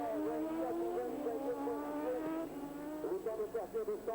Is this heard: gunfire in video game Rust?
no